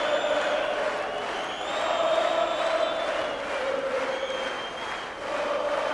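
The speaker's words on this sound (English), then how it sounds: "Sellout crowd on their feet here." A sellout boxing crowd on its feet roars and cheers at a full fight, a dense sustained wall of voices with swelling whoops and shouts, loud and surrounding.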